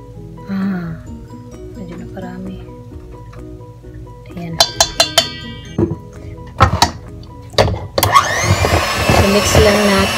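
Electric mixer whirring through leche flan ingredients in a home kitchen, a steady motor hum joined by clinks of utensils against the bowl, then a louder, busier mixing burst toward the end.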